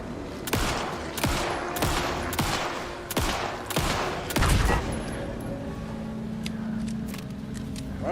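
Video game gunfire cracks out in a run of sharp shots, roughly a handful of evenly spaced reports early on, then a louder burst before the firing thins into quieter game ambience.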